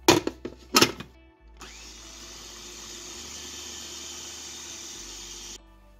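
A blender grinds walnuts for honey almond and walnut cigars. After a few short knocks as it starts, the motor gives a steady, even whir for about four seconds and then cuts off.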